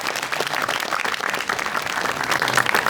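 A studio audience at a comedy show applauds with dense, steady clapping from many hands, moderately loud and continuous throughout.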